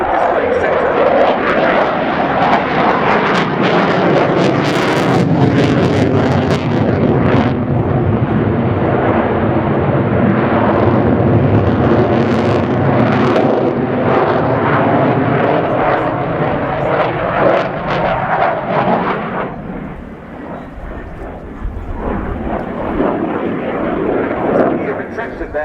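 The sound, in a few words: French Air Force Rafale C jet flying display, undercarriage down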